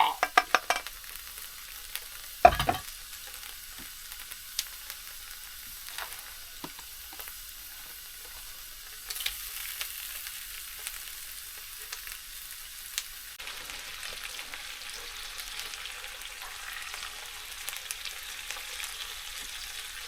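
Steaks frying on a wood burning stove give a steady, low sizzle throughout, broken by a sharp clatter near the start and a few small knocks as they cook, with no voices.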